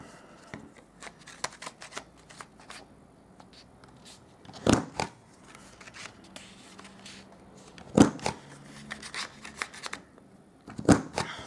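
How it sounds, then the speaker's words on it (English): A corner rounder punch clips the corners of grey cardstock, giving several sharp, loud snaps spaced a few seconds apart, with quieter rustling and handling of paper between them. "I'm going to get my corner rounder and I'm going to round the corners on all four sides."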